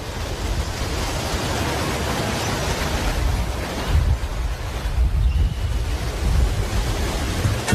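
A tidal bore wave surging up a North American river at high tide in June or July: a steady, loud rush of broadband water noise, churning and roaring continuously with slight swells, no voices.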